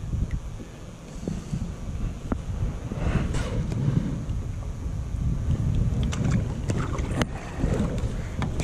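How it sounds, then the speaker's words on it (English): Strong wind gusting across Lake Hickory, North Carolina, on a December day out bass fishing from a boat, a steady roaring rumble of buffeting against the microphone with scattered knocks and splashes, no talk. "this wind has really picked up"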